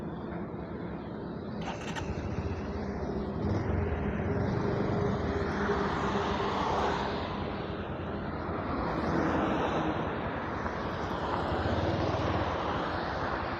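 A petrol vehicle engine running on fuel mixed with a petrol saver additive, a steady loud drone with a roar of airflow rising and falling, close up and continuous.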